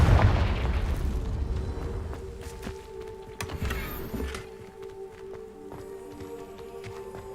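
Confringo fire spell blasts in Hogwarts Legacy on hard mode: a loud burst opens, a second sharp blast lands near the middle, and a steady game hum with tonal effects carries underneath.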